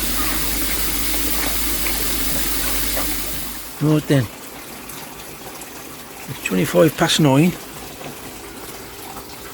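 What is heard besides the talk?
water running while filling a fish tank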